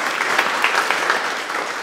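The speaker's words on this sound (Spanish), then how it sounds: "Un fuerte aplauso para las ofrendas de este día." A Mass congregation applauds with a dense, steady patter of many hands clapping at close range, filling the short stretch without pause.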